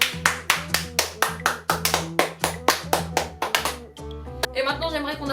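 Children applaud Esteban's second-place contest entry with a run of sharp, evenly spaced claps over a steady tonal background. The clapping stops abruptly near the end.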